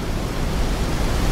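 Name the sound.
waterfall roaring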